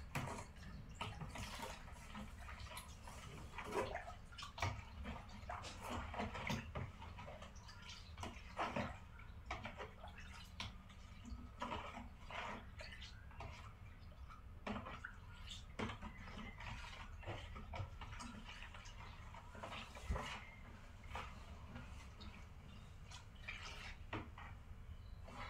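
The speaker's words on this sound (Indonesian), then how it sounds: "1000 ml air ledang kita tambahkan dengan 1 gram deterjen, kemudian kita aduk rata." Detergent being stirred into tap water for a school science experiment, heard as soft, continuous watery sloshing with small drips and clinks that run steadily throughout and stay fairly faint and close, with no talking over them.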